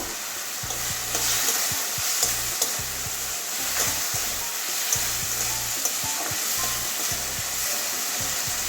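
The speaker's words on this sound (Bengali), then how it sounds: "এবারে চিংড়ি মাছগুলো দিয়ে দেবো" Prawns stir-fried in a pan with softened, melted tomato give a continuous bright sizzle, with repeated scraping and clinking stirs of a spatula throughout, close and moderately loud.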